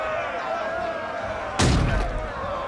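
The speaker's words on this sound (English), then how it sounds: "You can hear that the gate is being slammed by the battering ram." A battering ram slams a city gate during the sack of Constantinople in the video game Medieval Kingdoms 1212, a single heavy booming thud over a dense battle din.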